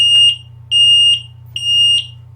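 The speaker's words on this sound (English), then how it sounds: "So this alarm would sound like this when it goes off" Gas leak detector alarm for methane or carbon monoxide sounding in repeated shrill electronic beeps, three long piercing tones with short gaps, loud and close over a steady low hum.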